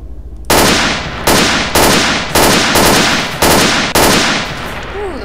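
Gunshots in the STALKER: Oblivion Lost game: six loud, sharp reports fired one by one at an even, slightly slow pace, each with a short decaying echo, close and dominant with no talk over them.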